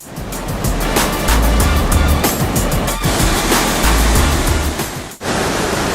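Steady, loud broadband roar of Victoria Falls on the Zambia side, heard from close to the edge of the sheer drop, continuous with low rumble and a brief dip near the end.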